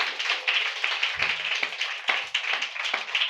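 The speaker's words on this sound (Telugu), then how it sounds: "చప్పట్లు కొట్టాలి మరి." A congregation claps hands in church during a Good Friday service, a loose patter of individual claps with some sharper hits standing out, moderately close and without voices.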